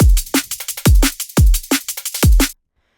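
A punchy drum and bass loop built from a Splice head loop, a deep booming kick and a sharp snare hits in a fast driving pattern, loud and up close, then stops abruptly.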